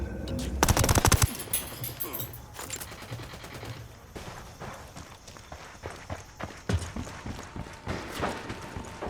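Video game shootout with loud bursts of automatic gunfire, an intense volley early on followed by scattered shots and rattling fire, with some speech mixed in.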